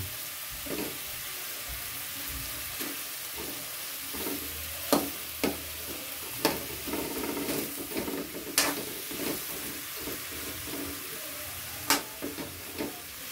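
Shrimp fry quietly in a pan with a soft, continuous sizzle, broken by several sharp clinks and scrapes as they are stirred and flipped.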